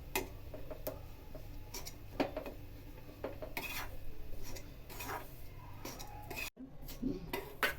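A spoon stirs and scrapes a bajra-flour kuler mixture in a metal pan on a stove that has been switched off, making close, irregular clinks and rasping scrapes with no talking.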